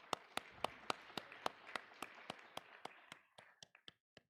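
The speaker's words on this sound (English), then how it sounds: "A big round of applause, please." Audience applause at a sustainable-education conference: a steady run of distinct, sharp claps that thins into a few sparse, scattered claps toward the end, moderately distant and not very loud.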